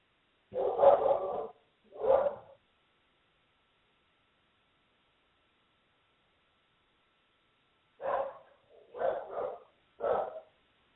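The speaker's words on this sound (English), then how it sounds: "My dog is going crazy. There's somebody at the door." A dog barks at someone at the door, two bursts close together, a pause of several seconds, then three more sharp barks, loud and near against silence.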